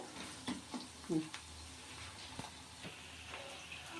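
Onions brown in a pan for a gongura boti and chicken curry, a steady, faint broadband sizzle with a few soft clatters and bumps.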